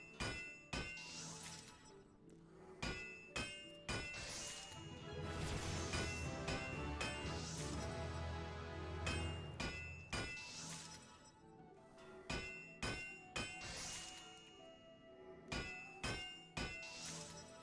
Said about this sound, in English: Watch me bang my hammer.